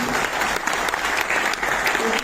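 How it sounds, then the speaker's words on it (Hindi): A festival audience at IIT Kanpur breaks into loud, dense applause for a guest, continuous clapping from a large crowd with no gaps. "जोरदार तालियां संजीवनी जी के"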